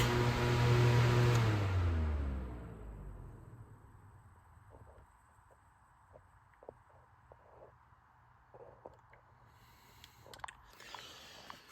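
A Holmes HAWF 2020N fan spinning down, heard from the back: a hum that slides down in pitch and fades within a couple of seconds, followed by near-silence with faint clicks and small knocks.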